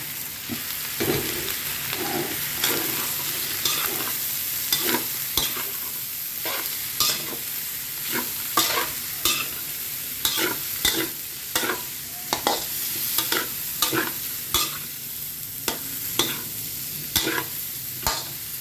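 Spicy pork stir-fried in a wok with chillies, kaffir lime leaves, green peppercorns and red pepper, a loud steady sizzle under quick repeated spatula scrapes and clanks in a brisk, even rhythm.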